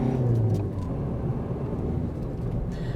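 Ford B-Max hatchback pulling away under acceleration, a steady low engine drone with road and tyre rumble heard from inside the cabin, continuous and fairly loud throughout.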